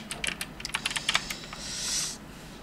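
Code typed on a computer keyboard, a quick close burst of key clicks followed by a brief soft swish, with no voices.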